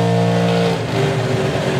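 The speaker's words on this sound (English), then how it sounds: "you're going to hear him bring the RPMs up to a certain point and then roll the car into full stage" A clutch drag racing car revs hard before rolling into full stage at an FIA/FIM drag racing event, a loud, steady, close engine roar with strong harmonics throughout, no talk.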